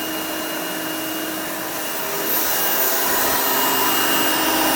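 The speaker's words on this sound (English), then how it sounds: "So that suction you're hearing is mostly from the bottom plate." Hoover Elite 5.0 Limited Edition U4601-900 upright vacuum running steadily, its bottom plate pulling suction with a broad hiss and motor drone that grows slightly louder partway through, close and continuous with no talk.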